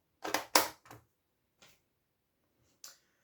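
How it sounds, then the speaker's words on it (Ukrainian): A magazine is fitted to an Anderson A005 carbine: a few sharp, close metallic clicks and clacks in quick succession, then two fainter isolated clicks, with silence between. "Магазин приєднуємо."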